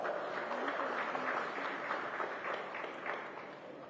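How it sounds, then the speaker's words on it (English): Audience at a private electronic parts factory opening ceremony applauding a speaker, a dense, even patter of many hands clapping that tapers slightly toward the end, with no voices over it. "Let's give him a hearty round of applause."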